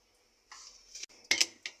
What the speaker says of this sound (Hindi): अब हमने प्रेशर कुकर देना है बंद,